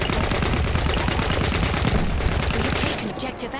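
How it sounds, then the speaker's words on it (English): Battlefield 1 Conquest combat: dense, loud machine-gun fire rattles rapidly and continuously for several seconds, then eases at the end. "Actually, this kid's shooting at me."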